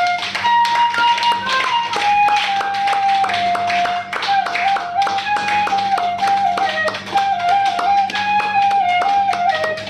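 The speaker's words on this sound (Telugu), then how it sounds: "గట్టిగా చప్పట్లు కొట్టుకుందాం" A group claps loudly and steadily for about ten seconds after a guided meditation on a walking pilgrimage to Kedarnath, with a sustained tone and faint voices underneath.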